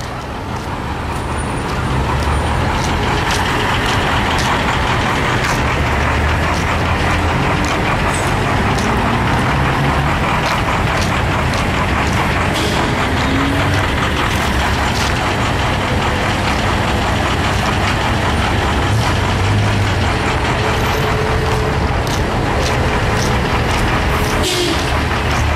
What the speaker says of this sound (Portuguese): Esse pedágio já gerou um trânsito aqui de mais de 10 quilômetros aqui.